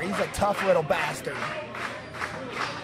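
Crowd cheering and yelling at a wrestling show, a steady roar of the audience running under close commentary voices throughout.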